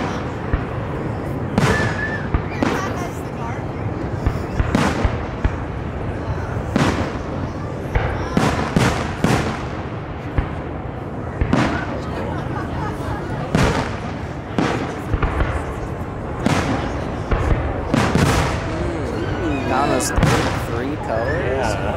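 Fireworks bursting over Lake Siskiyou, a steady run of loud booms and crackling pops repeating every second or two. People talk and react nearby throughout.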